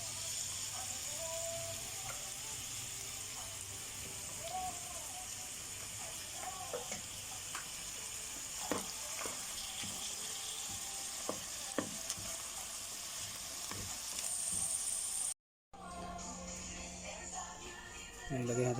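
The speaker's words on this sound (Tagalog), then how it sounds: "Ngayon, igisa natin sa bawang at sibuyas" Garlic, onion and ginger sautéing in a pot for chicken tinola, a low steady sizzle with occasional utensil clicks and stirring scrapes, a faint voice now and then, and a brief cut near the end.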